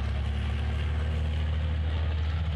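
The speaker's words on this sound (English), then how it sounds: "You can hear the wonderful sounds of these machines revving up and getting going on the exit of these hairpins" Racing cars accelerate out of hairpins at the Slovakia Ring during qualifying, making a continuous loud engine roar heard at a distance.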